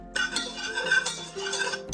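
A whisk stirs flour into melted butter in a pan over medium-high heat, with close scraping and light metallic clinks against the pan in an uneven rhythm.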